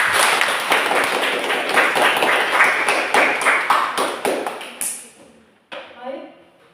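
A classroom group claps together at the close of a presentation, dense overlapping hand claps that build, hold steady, then thin out and stop, followed by brief quieter sounds.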